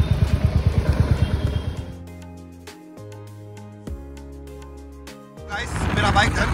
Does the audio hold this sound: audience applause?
no